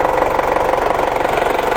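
A newly bought vehicle's engine runs at idle nearby with a slightly vibrating, rhythmic thrum, steady and fairly loud with no talking.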